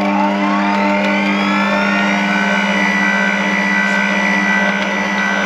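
A fruit dessert machine runs in reverse, a loud steady motor whine with a constant hum and a rising tone that sustains for several seconds without talk.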